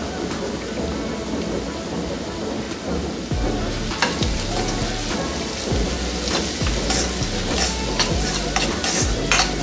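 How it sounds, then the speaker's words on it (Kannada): Onion, garlic and turmeric frying in oil in a pan for tamarind rice, a steady close sizzle with repeated scraping stir strokes throughout, no talking. "ಈಗ ಇದನ್ನೆಲ್ಲ ಒಂದು 30 ಸೆಕೆಂಡ್ ಅಷ್ಟು ಹುರ್ಕೊಳ್ಳೋಣ"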